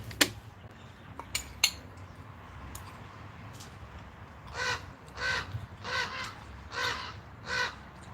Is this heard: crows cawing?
yes